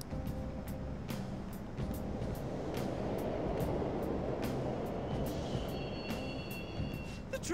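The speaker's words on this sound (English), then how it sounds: "The trains are totally running." Subway trains in the video game Persona 5 Royal, a steady low rumble and rattle of rolling cars with faint metallic clicks, continuous and moderately distant with no voices.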